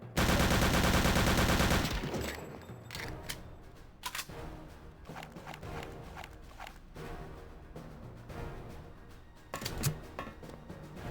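FG-42 parachute rifle from Return to Castle Wolfenstein, firing in a loud sustained burst at first, followed by scattered sharp single shots and clatter over a busy game soundscape.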